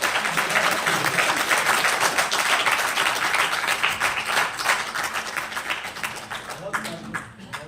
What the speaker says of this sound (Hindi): तो प्लीज तालियों में कंजूसी मत।